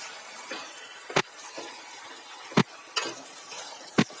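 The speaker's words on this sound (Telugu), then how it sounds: "బాగా కలుపుతూ ఉడికించుకోవాలి." Chicken stirred in a pan as it cooks, with sharp utensil scrapes every second or so over a faint background sizzle.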